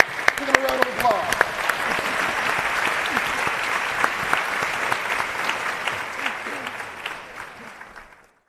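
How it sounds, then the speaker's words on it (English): An audience at a global forum applauds a panel, loud sustained clapping with a few cheers at the start, holding steady before tapering off near the end. "Give them a round of applause."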